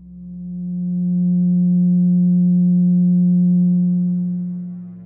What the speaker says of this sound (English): let's listen to what the 180 total degrees contained in a triangle sound like